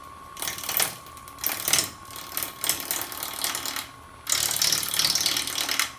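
Wood lathe turning a dry ambrosia maple winged bowl, with a tool chattering and scraping against the spinning wood in rhythmic bursts over a steady motor hum, then a denser continuous cut.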